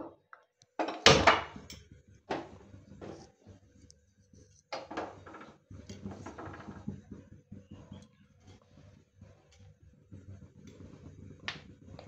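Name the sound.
wok (kadai) being placed on the stove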